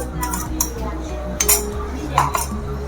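A spoon clinks against a pot while mango puree is stirred into kheer, a few light metallic taps and scrapes spread unevenly, heard close and alone with no talking.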